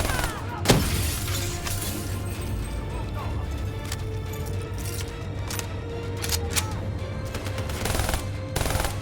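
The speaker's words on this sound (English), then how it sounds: "They're blowing out the damn window!" Window glass shattering amid rapid gunfire in Call of Duty: Black Ops III, a sharp crash early on followed by sustained bursts of shots and breaking debris over a low droning background.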